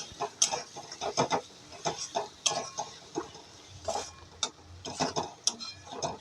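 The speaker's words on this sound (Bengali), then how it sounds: "এবার আমি এটাকে গ্যাসটাকে একটু কমিয়ে দিয়ে এটাকে একটু নাড়তে থাকবো এরকম।" Mutton curry with chilli, turmeric, cumin and coriander is stirred in a pan over low gas. The utensil makes irregular, close scraping clicks and taps, none of them loud.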